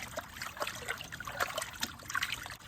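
Turnip greens are swished and rubbed in a large basin of water, giving soft, close trickling and dribbling splashes in irregular bursts, faint and steady with no talking.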